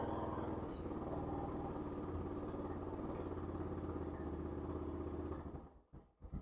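A 2021 Honda Recon ATV engine runs cold without warm-up, a close, steady, throbbing idle with rapid pulsing that sputters and dips near the end as it nearly stalls.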